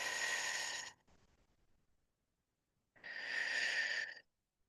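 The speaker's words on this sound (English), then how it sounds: "I will be breathing through the mouth so that you can hear me making the sound" Strong breathing through the mouth during a breathwork session: a loud airy exhale of about a second, a fainter breath trailing after it, a pause, then another long loud breath, close up with no talking.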